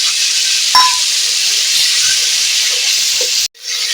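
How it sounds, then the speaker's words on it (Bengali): Spice masala frying in a pan as chili and turmeric powder go in gives a loud, steady sizzling hiss with a brief clink, then cuts off abruptly near the end. "মশলাটা ভালো রকম ভাজা হয়ে গেছে এবারে দিয়ে দেবো লঙ্কা আর হলুদ গুঁড়ো"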